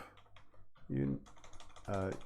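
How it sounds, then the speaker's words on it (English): Someone types steadily on a computer keyboard in quick, uneven bursts of key clicks, with a person's voice breaking in between the bursts. "Sorry about the typing."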